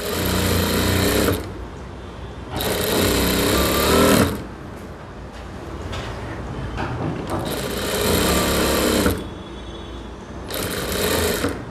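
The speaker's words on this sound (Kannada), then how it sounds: "ಇವಾಗ ಇದಕ್ಕೆ 2 ಸ್ಟಿಚ್ ಸೇರಿಸಿ ಒಂದು ಸ್ಟಿಚ್ ಹಾಕ್ಕೊಳ್ಳಿ" Sewing machine stitching a blouse, running in loud, steady bursts of rapid needle clatter, four runs of one to two seconds separated by quieter pauses with faint handling noise.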